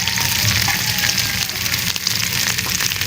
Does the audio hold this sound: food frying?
yes